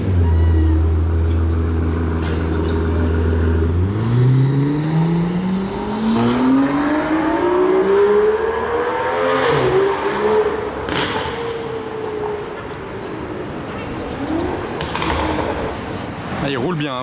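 A supercar at the Monaco Grand Prix revs hard with its exhaust valves open, the engine note climbing steadily in a long, loud sweep before easing off, amid street bustle and voices.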